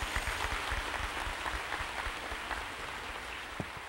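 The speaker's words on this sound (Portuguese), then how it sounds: "Vamos acolhê-lo com uma salva de palmas." A church congregation at a novena evening applauds to welcome an auxiliary bishop, steady, moderately distant clapping that fills the space evenly without voices over it.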